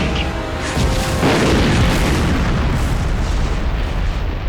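Heavy tank battle fire, with loud booms and explosions rolling into one another as a sustained, dense roar of distant artillery and battlefield blasts, with no clear voices.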